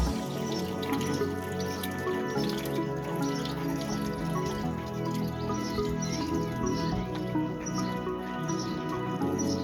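Water from a fountain or spring at a French barn dripping into a plastic container, a steady run of close, distinct drips with a faint bird chirping behind, no talk.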